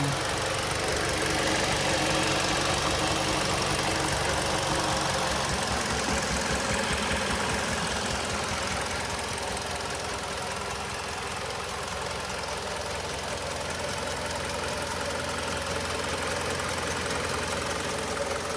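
The chain-driven 2.4L engine of a 2006 Mitsubishi Outlander idles under an open bonnet, giving a loud, close, continuous rumble with a faint ticking texture and no break.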